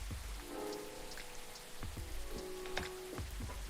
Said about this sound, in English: We're back raining. It's raining again.